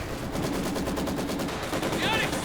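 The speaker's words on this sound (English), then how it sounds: "Lots of machine gun fire there from the MG, but also the Panthers MGs." Company of Heroes 2 battle with heavy machine gun fire from an MG team and Panther tank machine guns. The rapid bursts rattle densely over continuous battlefield noise.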